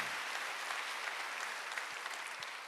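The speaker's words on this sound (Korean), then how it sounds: "박수 하세요." Church congregation at a Wednesday worship service applauding together, a soft, even wash of clapping that sounds distant and fairly faint and holds steady throughout.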